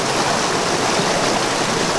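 A flowing stream in Arkansas rushes steadily at close range, a dense, even wash of water with no voices over it.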